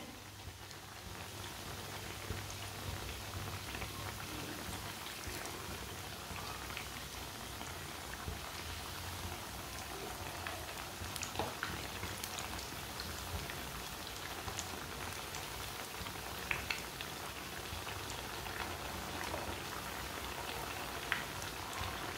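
Dal tikki lentil patties fry in a pan over a raised flame, giving a steady, soft crackling sizzle with scattered faint pops that runs evenly for the whole stretch, without any voices.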